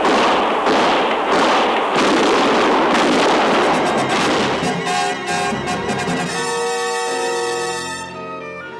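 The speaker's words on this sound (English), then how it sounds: "Shoot, and for Lord's sake, don't miss. Shoot!" Gunfire in a frontier-era radio drama, a rapid series of loud close shots and blasts that thin out and give way to swelling music.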